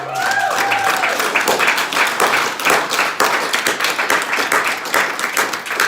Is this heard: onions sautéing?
no